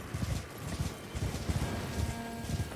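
In the Elden Ring video game, a horse's hooves clop on rock as it rides down a cliff face, a steady brisk clip-clop under a dense game soundscape, with no talking.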